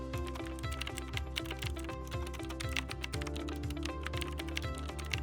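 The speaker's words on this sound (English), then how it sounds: "And we're typing in our dates," Rapid clicking of keys on a computer keyboard, steady and close, with faint background music underneath.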